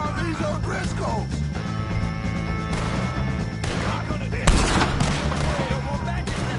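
Gunfire in a Red Dead Redemption 2 shootout with the O'Driscolls, dense overlapping shots crackling under music and battle noise, with one louder blast near the end.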